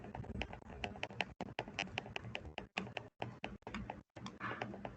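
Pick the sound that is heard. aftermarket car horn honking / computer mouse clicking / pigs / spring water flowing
computer mouse clicking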